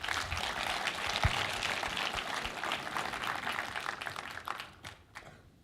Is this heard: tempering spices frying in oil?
no